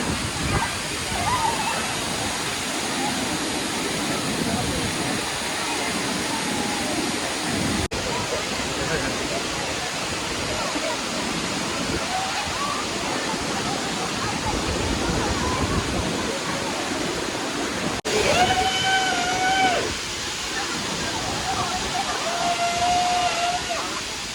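Anachadi waterfall roaring continuously and loudly nearby, a dense rushing wash of water, with faint voices briefly audible toward the end.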